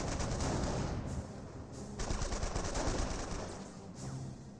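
Rapid gunfire in the Company of Heroes game pours onto Panzer Grenadiers, dense bursts of rifle and machine-gun shots rattling continuously at moderate distance with a few sharper cracks.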